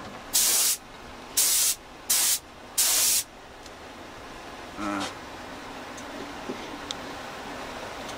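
Spray gun applying finish coats to an acoustic guitar in a workshop during a refret job: four sharp hissing bursts of about half a second each, close and loud, with quiet room tone in the pauses and a faint brief sound near the end.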